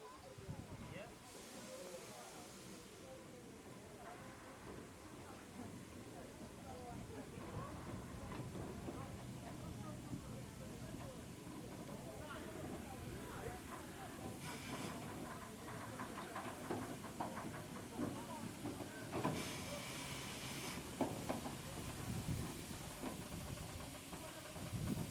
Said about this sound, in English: here's a final clip of the engine as it changes track at the Oxenhope terminus.